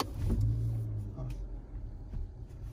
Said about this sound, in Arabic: شغل السيارة. اشغل السيارة